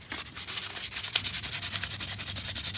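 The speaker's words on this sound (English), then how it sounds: "Then I'm going to hit it with this" A car trim piece is sanded by hand with 1000 grit sandpaper in quick, even back-and-forth strokes, a close, dry rasping rhythm with no talk.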